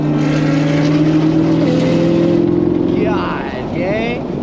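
A Nissan GTR fitted with a big body kit drives past loud and close, its engine droning steadily before the pitch shifts and fades slightly as it pulls away.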